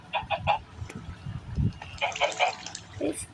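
Minecraft chickens cluck in repeated short bursts, a couple of clusters of quick calls over a low, steady background hum.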